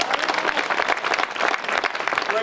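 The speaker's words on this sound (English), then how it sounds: "Round of applause for everyone." A crowd applauds steadily with dense, overlapping clapping that holds at an even level for the whole stretch, with no voices standing out.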